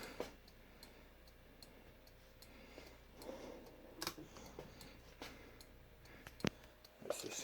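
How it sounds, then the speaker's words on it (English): Motorino XPH scooter turn signals give faint, sparse ticking clicks at irregular intervals, with a few sharper knocks, against a quiet background. "Nothing wrong with it, but for some reason that keeps clicking. And it's the turn signals, obviously."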